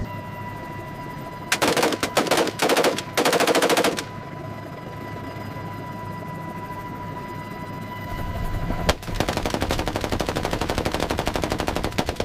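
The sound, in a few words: gunshots fired from a low-flying aircraft at a wild boar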